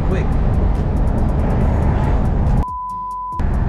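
Mercedes GLC 63s AMG accelerating quickly from a standstill, its loud engine and road noise roaring steadily before cutting off abruptly near the end, with people talking excitedly inside.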